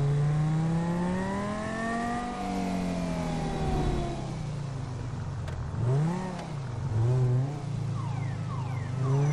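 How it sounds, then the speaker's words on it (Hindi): A Toyota Fortuner SUV in GTA V drives off, its engine note rising and falling through several revs and gear changes, close and steady with no talk over it. "तो अभी हम लोग टोयोटा फॉर्च्यूनर को निकालते हैं अपने घर से बाहर"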